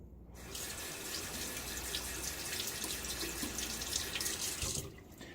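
Water runs steadily from a tap into a sink, a constant close splashing rush that stops abruptly at the end.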